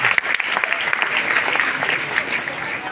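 Audience at a direct-selling business meeting giving loud, dense applause, steady clapping with some crowd noise and a voice faintly underneath.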